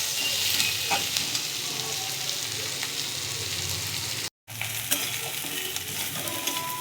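Dried fish (shutki) fries with onion in oil, giving a constant dense sizzle with faint stirring clinks. A very brief gap of silence interrupts it partway through, and no one speaks.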